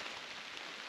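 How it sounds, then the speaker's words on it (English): Steady rain falling outdoors on a steep hunting bluff beside a creek, a dense, even broadband patter close around with no voices. "Raining pretty good right now."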